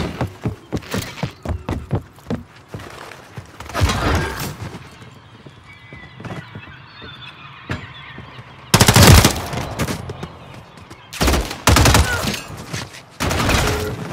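Gunfire in a Call of Duty hardcore search-and-destroy match, with rapid bursts of shots at the start and several heavy, loud volleys later, separated by quieter stretches of ambient game noise.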